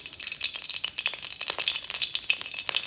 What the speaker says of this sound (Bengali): এখন কড়ার মধ্যে দিয়ে দেব 3 চামচের মতন গাওয়া ঘি। ঘিটা ভালোভাবে গরম করে নেব।